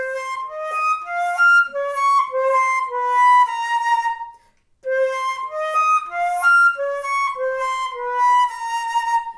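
Solo flute plays a lilting passage of octave leaps, the lower notes lightly accented, in two phrases separated by a brief pause near the middle, close and clear with no talking.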